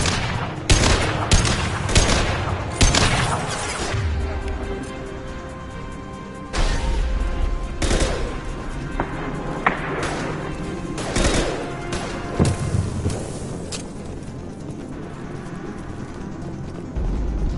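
High-impact gunshots ring out in the Mass Effect 2 video game: a loud, close volley of sharp cracks, dense early on, then spaced single shots and short bursts over a lingering low rumble.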